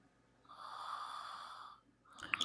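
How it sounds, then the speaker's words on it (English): A person snoring during an online meeting, one drawn-out, faint, wheezy inhaled snore rising and fading over about a second, followed by a brief rustle, quiet and alone. "I heard somebody snoring."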